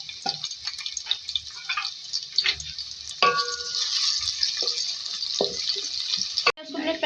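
Onions fry in oil with black peppercorns and green cardamom for turai chana dal, a continuous hissing sizzle with a few clicks and stirring sounds, while someone talks over it.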